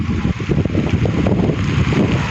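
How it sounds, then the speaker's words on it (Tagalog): Strong typhoon wind in Taiwan roars and buffets continuously against the microphone, a loud, low rumble with no other clear sounds. "medyo malakas talagang hangin"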